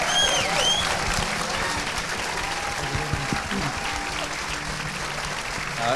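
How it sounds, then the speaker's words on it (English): Audience at a climate politics event applauding a speaking panel, steady loud clapping with a few whoops, sustained throughout. "Can I get a huge round of applause for our panel?"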